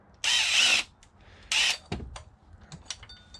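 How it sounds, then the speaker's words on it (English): Impact wrench undoing a 17 mm cam sprocket bolt on a 1996 Mitsubishi Montero during a head gasket and timing belt job: two short, close whirring bursts followed by a few metallic clunks and knocks, no talking. "The impact wrench really helps with that."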